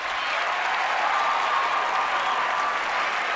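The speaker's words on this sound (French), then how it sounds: "On applaudit." Steady applause from a theatre-style audience, a dense wash of many hands clapping at an even level without a break and with no voices on top.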